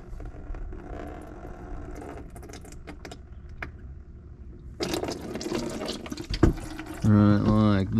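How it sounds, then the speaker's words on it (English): Used engine oil running out of a motor after an oil filter is removed, a continuous close trickle and splash of liquid that grows fuller and louder partway through, with a voice talking near the end. "once it drains out a little bit, it quits coming out of the filter and it starts coming out of the motor"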